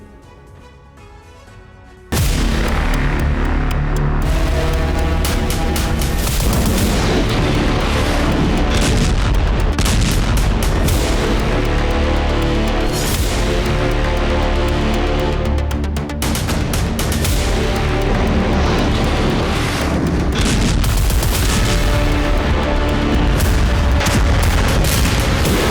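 Heavy naval artillery fires from warships during Russian military exercises, a relentless barrage of loud booms and blasts overlapping continuously after a short quiet opening.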